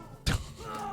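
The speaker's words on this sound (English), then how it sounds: "What if we had infinity cactus explosions?" A cactus explosion in the video game Totally Accurate Battle Simulator gives a single sharp, heavy thud-like burst, then a sustained ringing tone that lingers to the end.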